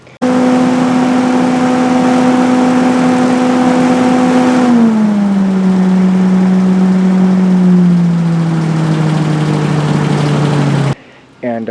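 A BMW Z3 Hurricane engine running on gravity-fed fuel, a loud, steady idle drone that drops slightly in pitch partway through and holds until it cuts off near the end.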